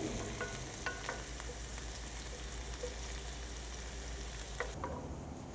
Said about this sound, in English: we're gonna fry our onions in there and then the beans